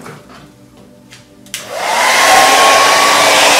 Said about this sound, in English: now I'm going to start my hairdryer